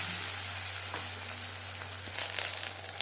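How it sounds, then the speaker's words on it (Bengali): Batter-dipped marinated fish frying in hot refined oil, a steady close sizzle and crackle with faint stirring clicks and no voices. "এবার দিয়ে দিলাম ম্যারিনেট করে রাখা মাছ ব্যাটারে বেশ ভালো করে ডুবিয়ে নেব"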